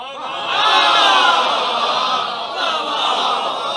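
Audience at a majlis calling out together in response, a loud sustained collective shout of many voices that swells and then holds before easing slightly.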